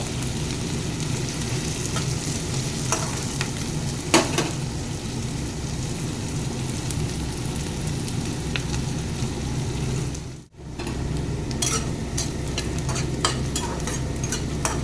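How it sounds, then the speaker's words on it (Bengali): Onions frying and being browned in a pan for a chicken kosha, with a steady close sizzle and scraping stirring throughout and a brief dropout near the end. "মোটামুটি পেঁয়াজটা কষিয়ে নিয়েছি।"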